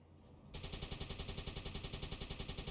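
A U-boat's deck flak gun firing in the submarine game Uboat: after a brief quiet moment, a rapid, steady automatic burst starts and keeps pounding in an even, fast rhythm, loud and close.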